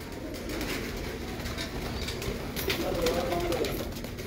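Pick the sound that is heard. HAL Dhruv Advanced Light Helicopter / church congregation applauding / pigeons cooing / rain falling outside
pigeons cooing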